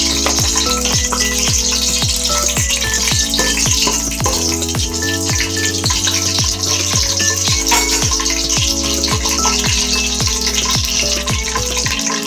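Cumin seeds fry in hot oil for a Telugu bajji curry, giving a steady, loud sizzle with dense crackling. A rhythmic knocking runs throughout alongside it, and no one speaks.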